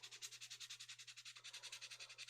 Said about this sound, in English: I'm going to finish sanding and then I'll see.